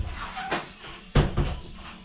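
A bedroom door in a house being painted is opened, giving a couple of close wooden knocks and a sharper thud with a brief rattle, with faint room noise between.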